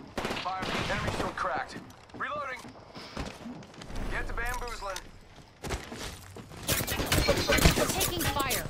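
Gunfire in the Apex Legends battle royale shooter: sharp cracks and short bursts scattered through the scene, getting louder and denser toward the end, mixed with game voice lines and people talking over it.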